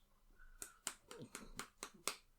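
Seven quiet, small hand claps in an uneven rhythm, close and soft, with no voices.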